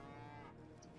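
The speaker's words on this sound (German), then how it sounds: "Da ist die Kuh." A cow moos once in World of Warcraft, a single drawn-out low bellow lasting about a second, fairly quiet and alone.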